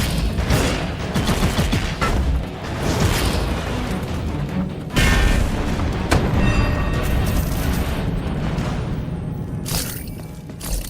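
A thunder blast attack in the action game F.I.S.T. erupts in a dense run of loud booming explosions and crackling impacts, with sharp bursts near 0.6, 5 and 6 seconds over continuous rumbling debris.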